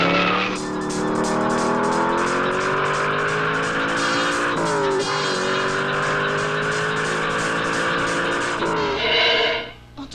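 A cartoon racing car roars along at speed, its engine held at a steady high pitch with tyre squeal layered in, shifting tone briefly midway and cutting off sharply near the end.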